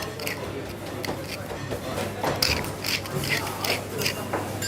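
Black pepper ground from a pepper mill while cooking spaghetti alla puttanesca, giving repeated close grinding, ratcheting crunches with a low kitchen hum underneath and some speech.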